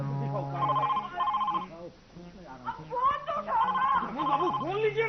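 A telephone rings in repeated electronic trills, loud and close, while people talk over it.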